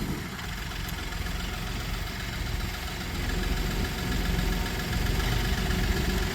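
A Loadmac 855 iSR truck-mounted forklift engine idles steadily nearby, a continuous low mechanical hum that swells slightly toward the end, with no talk over it.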